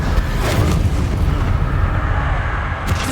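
Booming blasting-spell explosions in the video game Hogwarts Legacy, deep rumbling blasts rolling over each other with a sharp burst near the end, loud and close with no talk over them.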